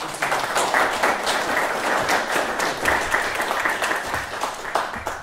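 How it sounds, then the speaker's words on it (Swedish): Audience applause at the Sappho Award 2020 event: many hands clapping in a lively, uneven patter that stays loud and sustained throughout. "så kan vi inte ge honom en applåd"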